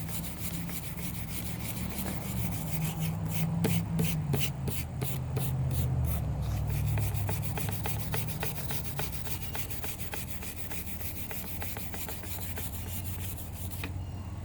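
Steady scrubbing and rubbing across burnt scrap wood along the grain, clearing soot from a charred surface, with a continuous coarse abrasive texture and rhythmic strokes running throughout at close range.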